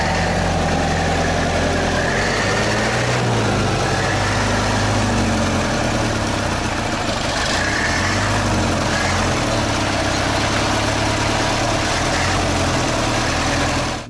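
The engine of an old Soviet T-74 tractor runs loudly and steadily, a deep continuous rumble with heavy vibration and no talking.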